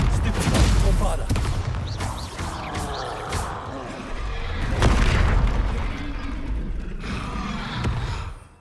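Bombarda spell blasts in Hogwarts Legacy, several booming explosions and bursts with rumbling tails, overlapping other spell effects while a voice talks throughout.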